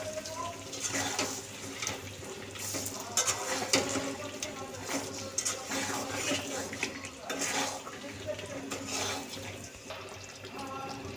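Whole olives cook in melted sugar syrup in a pan for a sweet and sour pickle, giving faint bubbling, stirring and light clinks of a utensil against the pan at an irregular pace.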